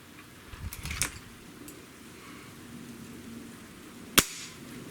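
A Gamo Magnum .22 caliber breakbarrel air rifle fires a single sharp, loud crack near the end, after a few soft handling knocks, in an otherwise quiet setting.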